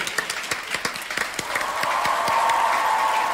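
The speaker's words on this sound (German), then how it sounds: "Ein Applaus für den wunderbaren..." Theater audience at the BKA Theater applauding, distinct rhythmic claps over a crowd wash, giving way midway to a sustained steady tone that continues to the end.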